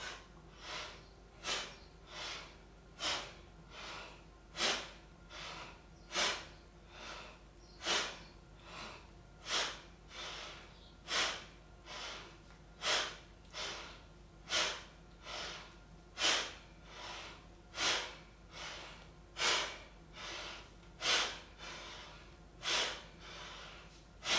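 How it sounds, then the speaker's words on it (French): Alternate-nostril yoga breathing, done seated cross-legged with the hands on the shoulders: close, steady inhales and exhales through the nose, repeating in an even rhythm about once a second, with no talking. "On inspire à gauche, on expire à droite."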